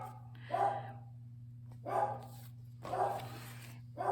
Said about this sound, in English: Do you hear my dog in the background?